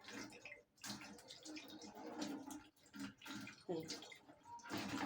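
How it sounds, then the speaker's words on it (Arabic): Salted fish rinsed under running tap water gives a faint, continuous splashing and trickling with small uneven bursts, heard quietly and up close. "لازم تشطفيها كده"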